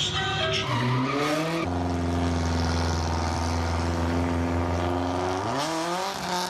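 Cars drifting during a convoy send-off, tyres squealing loudly in long sustained wails with engines revving beneath, the pitch sliding up and down as the cars slide.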